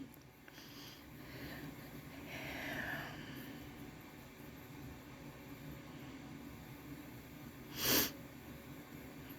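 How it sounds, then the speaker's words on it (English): A single sharp sniff near the end stands out over a low steady rumble, with fainter breathy noises earlier. "I got the sniffles back."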